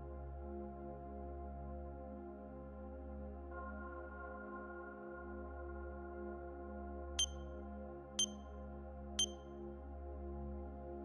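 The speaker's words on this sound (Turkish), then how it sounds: "Sadece pozların bitişindeki zil seslerini takip etmen yeterli." Three bright bell chimes ring out about a second apart near the end, each short and clear, marking the close of a pose in a face yoga practice session over a steady low background hum.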